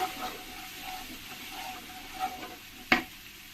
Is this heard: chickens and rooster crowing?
no